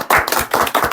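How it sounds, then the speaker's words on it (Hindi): An audience claps for toppers of the Bihar 12th board results, a loud, close burst of hand claps in an irregular rhythm, with no talk. "इसके लिए तालियां बजाइए।"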